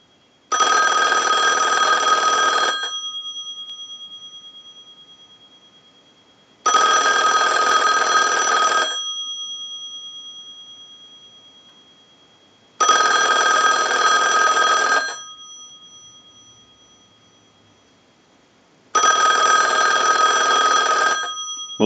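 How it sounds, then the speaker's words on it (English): A Western Electric 2500 desk telephone under repair rings its bell in four long bursts, each about two seconds of loud metallic jangling followed by roughly four seconds of silence, in a steady ring cycle. "use the analyzer and send a ring cycle like you were getting a call"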